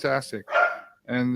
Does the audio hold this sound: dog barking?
yes